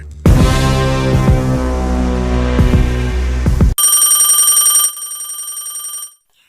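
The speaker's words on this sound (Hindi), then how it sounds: "मुझे एक इम्पोर्टेंट फोन आ रहा है" A phone rings loudly with an incoming call: a rich melodic ringtone plays for several seconds, then switches abruptly to a brighter, thinner electronic ring before stopping, alone with no talk.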